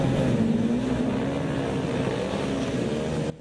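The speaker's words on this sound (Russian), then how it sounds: "Рев мотора, адреналин и искры снега из-под колес железных коней мотогонщиков" Ice speedway racing motorcycles roar on a frozen track in Suifenhe, China, a loud, sustained engine drone with a steadily rising pitch that cuts off sharply at the end.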